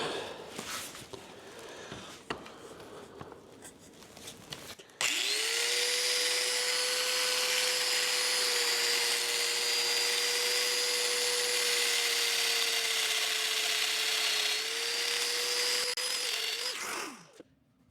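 A domino joiner cuts mortises in wood: after some light handling noise, the motor starts abruptly and whines loudly at a steady pitch for about twelve seconds, then winds down and stops.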